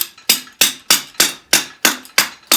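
A hammer strikes a screwdriver into a car's oil filter during engine removal on a Ford Mustang Fox Body 5.0L, eight sharp metallic blows in a steady even rhythm, loud and close.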